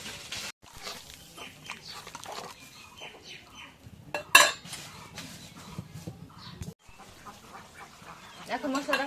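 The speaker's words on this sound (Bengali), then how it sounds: "মশলাগুলো একটু নাড়া দিয়ে দিই।" A utensil stirs ginger, cumin and garlic paste in a cooking pan, with scattered scraping and a few sharp metallic clinks against the pan, one louder strike standing out, while voices talk faintly in the background.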